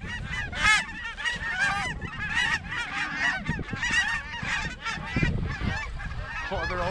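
Flock of lesser Canada geese flying in over a goose hunt, dense overlapping honks continuing steadily throughout, fairly close and loud, with faint background movement.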